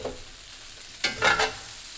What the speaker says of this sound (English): I'm just going to go ahead and put my veggies in and just give it a good mix.